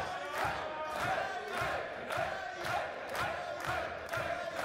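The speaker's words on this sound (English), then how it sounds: "Both men getting the energy of the crowd behind them." A wrestling crowd at a match between Rayo Flores and T-Jay roars with steady, rhythmic swells of cheering and chanting, pulsing roughly every half second as both wrestlers rally the fans, with no talk over it.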